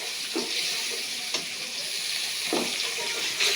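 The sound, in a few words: fish frying in a pan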